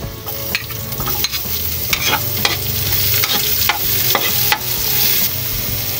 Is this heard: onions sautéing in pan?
yes